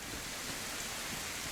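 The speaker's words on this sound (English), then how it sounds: "It's pouring rain, it's a little dark out, not a great day" Heavy rain pours steadily in a dark DayZ survival game landscape, a constant dense hiss of falling water with no other distinct sounds.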